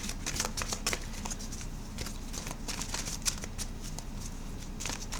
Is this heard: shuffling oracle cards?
yes